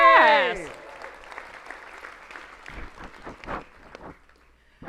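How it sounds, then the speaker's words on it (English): An audience applauds after a cheer, scattered clapping that rises in uneven bursts and tapers off, heard indoors close by with a short voice at the start. "give a round of applause"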